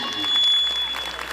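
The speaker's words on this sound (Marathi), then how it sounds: "खरंच टाळ्या वाजवा." An audience at a Home Minister game show event in Aundh, Satara, clapping in a continuous patter, with a voice talking over the applause.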